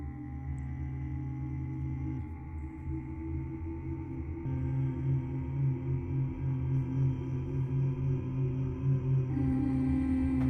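Layered sustained vocal Shepard tones from the Sonora Cinematic Aria Vocalscapes instrument drone steadily, with stacked pitches that seem to glide endlessly, swelling slightly louder partway through.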